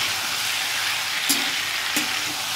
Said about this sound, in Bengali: এগুলো একটু নেড়ে নিই